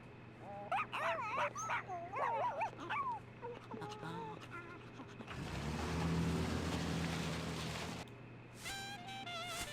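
A game dog in The Sims: Unleashed barks and yips in a quick burst of high, sharp calls with whimpery tones, followed by a steadier rumbling stretch, while a person talks over much of it.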